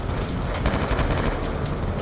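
Rapid gunfire from Call of Duty: Black Ops II rattles loud and close in a continuous burst. It lasts about two seconds with no talking over it.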